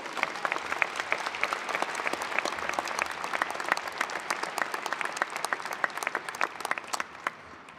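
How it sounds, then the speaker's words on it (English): A crowd at an RMIT University graduation ceremony breaks into applause, with crisp individual claps standing out against a continuous wash of clapping that carries on evenly throughout. "Let's give all of them a huge round of applause."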